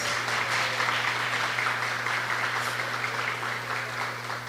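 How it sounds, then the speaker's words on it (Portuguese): Audience applause at a training session for fraternal assistance, a steady even wash of many hands clapping throughout, with a low hum beneath. "Uma salva de palmas para nós."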